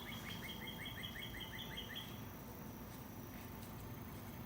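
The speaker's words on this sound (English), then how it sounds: "as you can hear the birds outside," Birds singing outside, a quick series of faint high chirps in the first two seconds over a steady hiss of background noise, distant and quiet.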